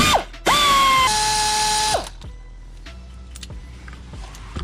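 A powered ratchet spins out 8mm bolts on a Jeep Wrangler Rubicon JL front bumper: a loud, close motor whine that winds up and drops off twice, followed by faint clicks and light metallic handling.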